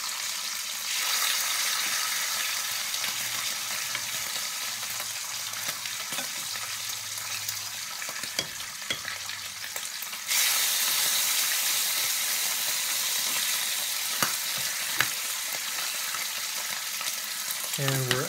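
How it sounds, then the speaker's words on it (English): Bacon sizzles in a 9.5-inch Gotham Steel non-stick titanium skillet, a steady, fairly loud crackling hiss that grows brighter and more intense partway through, with occasional sharper pops. "Put some of this bacon back in here."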